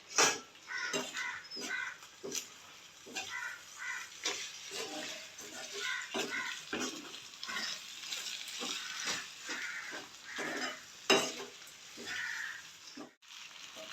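Eggs fry in a pan for a vegetable and egg noodle dish, giving a constant crackling sizzle with intermittent louder pops and spatters heard up close.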